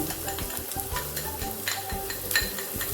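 Garlic and onion sautéing in a pan, a soft continuous sizzle broken by frequent light stirring clicks and spatula scrapes, close and moderately loud, with no talking.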